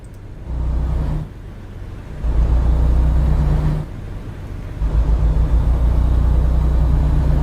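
A truck engine drones in Euro Truck Simulator, a low rumbling hum that rises and drops in bursts as the throttle is applied and eased, loud and close with no voices.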